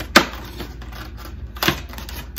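Two sharp crackling snips sound as a plastic soda bottle is cut around after a hole is poked in it, with quiet rustling between them.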